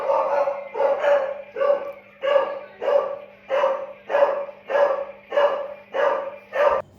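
A dog barks about ten times in a steady, evenly spaced rhythm, loud and close, with little else around it.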